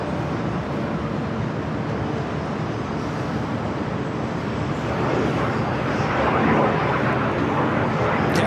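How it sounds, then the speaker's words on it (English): An Airbus A319 airliner at Los Angeles LAX airport, a broad steady engine roar with wideband rumble that swells slightly toward the end, with faint background voices. "This flight's this A319 heading to Austin,"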